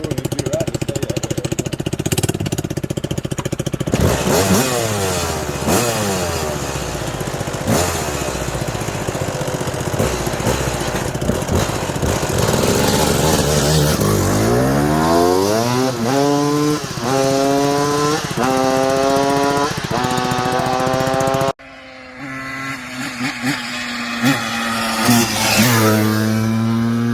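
A 1996 Suzuki RM250 two-stroke dirt bike engine revs loudly and close, its buzzing pitch repeatedly climbing and falling through throttle blips, then cutting off briefly before restarting and revving again.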